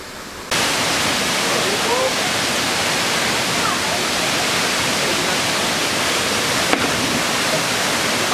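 Bang Pae waterfall in Phuket, Thailand, bursts in suddenly as a loud, close, continuous roaring rush of falling water that stays even and unbroken to the end.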